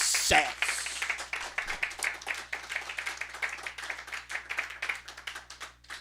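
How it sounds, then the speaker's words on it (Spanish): A church congregation claps in a quick, rhythmic pattern, a steady pulse of hand claps with a sharp knock at the start. "Dale un aplauso fuerte a Dios si lo crees."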